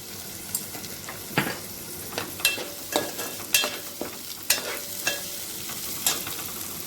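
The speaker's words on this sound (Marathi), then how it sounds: "आता आपला कांदा आणि टोमॅटो व्यवस्थित परतून झालेला आहे" Onion and tomato fry with spices in a pan as a steady sizzle, broken by repeated clinks and scrapes of a spoon stirring. The sounds are fairly close and there is no talking.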